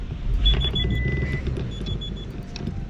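A steady electronic alarm beeps repeatedly over low traffic rumble, a car alarm chirping nearby with no talking.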